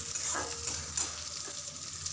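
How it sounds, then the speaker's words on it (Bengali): Chopped onion frying in oil with black cumin, a soft, steady sizzle close by with a few light stirring scrapes, no talking. "পেঁয়াজ কুচিটাকে কিছুক্ষণ ফ্রাই করতে হবে।"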